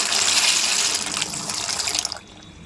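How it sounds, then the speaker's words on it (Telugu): Macaroni pasta pours into a pot of boiling water with oil, giving a loud rushing, splashing hiss that eases off after about two seconds. "బాగా నీళ్లు తెలుతున్నప్పుడు మ్యాక్రోనీ పాస్తా వేసుకోవాలి"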